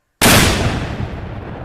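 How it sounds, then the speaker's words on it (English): A 10-pound Civil War cannon fires once, a single loud close boom that cuts in abruptly and rolls off into a long fading rumble, no voices. "fire a 10-pound Civil War cannon"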